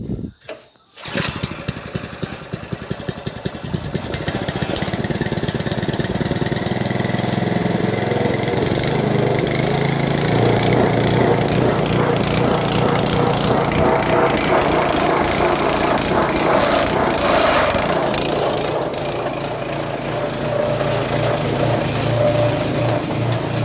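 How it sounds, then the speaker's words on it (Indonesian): A petrol-engine carpet spinner is started with a few pull sputters and then settles into a loud, continuous engine drone and rattle, spinning a soaked carpet close by. "Kita nyalakan mesinnya."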